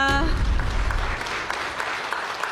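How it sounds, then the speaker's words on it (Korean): Crowd at a Labor Day ceremony breaking into brief applause, a dense burst of clapping that follows the tail of a spoken voice and thins out over a couple of seconds. "박수 부탁드립니다."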